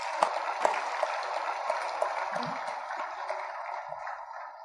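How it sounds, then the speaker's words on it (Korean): Church congregation clapping in unison during a Sunday worship service, a dense sustained round of applause with steady rhythmic claps that gradually thins out toward the end. "나를 이렇게 세우신 우리 하나님께 영광의 박수 한번 드리겠습니다"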